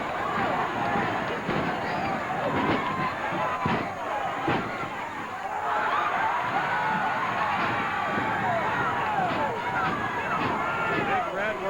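A 1976 Gulf Coast Championship Wrestling arena crowd roaring in uproar, a dense continuous wash of shouting and cheering with occasional thuds from the ring and a commentator talking over it.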